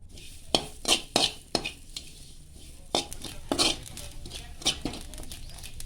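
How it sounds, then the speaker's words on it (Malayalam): Small pieces of coconut roasting in a pan for peanut laddoos, stirred with a utensil in repeated scraping strokes that land in uneven bursts over a faint background sizzle. "നമുക്ക് ഒരു ചെറിയ മുറി തേങ്ങ ഞാൻ എടുത്തിട്ടുണ്ട്, അതൊന്ന് ചൂടാക്കിയെടുക്കാം."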